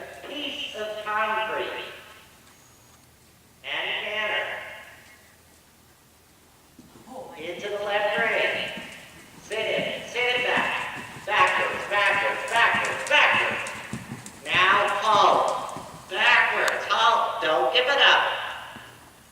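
Horse hooves clip-clopping in bursts during a riding lesson, rhythmic strikes coming and going as the horse passes, with an instructor talking between and over them.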